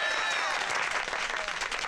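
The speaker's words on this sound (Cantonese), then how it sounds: "大家俾啲掌聲" Applause from a crowd of neighbourhood townsfolk welcoming an official in a period comedy street scene, steady dense clapping filling the whole stretch, fairly near, with faint voices mixed underneath.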